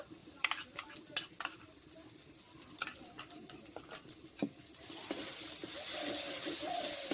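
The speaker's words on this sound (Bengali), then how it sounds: "ভালো করে মশলাগুলোকে কষিয়ে নেব" Cumin and coriander paste is stirred in a hot pan with fried ginger and garlic, giving scattered spatula taps and scrapes, then a fuller, louder hiss of frying swells in near the end.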